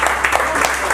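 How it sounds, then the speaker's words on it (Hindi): A poetry-reading audience bursts into loud, dense applause at close range, a continuous wash of clapping with a faint murmur of the crowd mixed in. "एक बार जोरदार तालियां यार"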